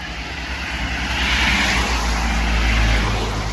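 Roadside traffic noise heard while walking uphill toward home, a loud, steady rumble of passing cars swelling slightly as a vehicle draws near, with no voices.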